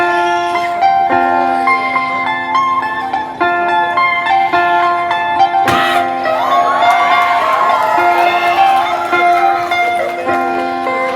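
A crowd at a children's Little Mr & Miss pageant at the Gawai Bazaar in Miri, Sarawak cheers and whoops over loud, sustained music, with one sharp burst of noise midway.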